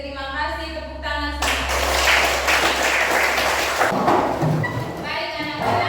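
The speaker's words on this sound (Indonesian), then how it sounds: "Oke, terima kasih. Tepuk tangan." Schoolchildren clap their hands together in a classroom, a dense burst of claps lasting a few seconds after a spoken line, with voices before and after.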